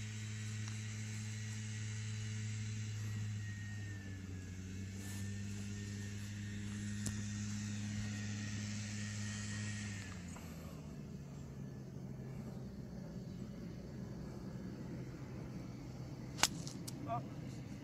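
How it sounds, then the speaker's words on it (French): An airplane passes high overhead at a golf fitting session, a steady low droning hum that holds for about ten seconds and then shifts lower and fades, leaving quieter outdoor ambience with a couple of brief sharp clicks near the end. "t'as été perturbé par l'avion là-haut, là, qui est en train de passer"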